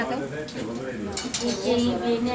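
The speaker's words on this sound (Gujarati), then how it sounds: "જો અમારે પીઝા બનવા માંડ્યા છે તળામાં." Pizzas cooking in a pan at an outdoor village pizza party give a low, steady sizzle mixed with clinks of pots and utensils, while someone talks over the cooking.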